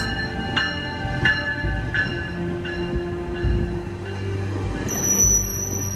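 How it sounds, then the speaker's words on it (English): A train locomotive leaves a station and gathers speed, with low rumbling engine noise, rhythmic clacks of the wheels that come about every half second, and a high squeal rising near the end. It sounds close and fairly loud. "You can get the train picking up speed and the epic sound of the locomotive"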